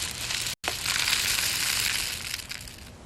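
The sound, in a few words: homemade shaker with rice and peas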